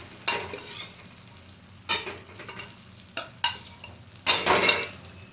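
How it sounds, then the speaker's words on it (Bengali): Boiled ghugni peas being sautéed in hot oil, a steady sizzle broken by several louder scraping stirs of a spoon through the pan, close and clear with no talking. "দেখো ঘুগনির মটরটা আমি দিয়ে দিয়েছি, দিয়ে আমি ভালো করে কষে নিয়েছি।"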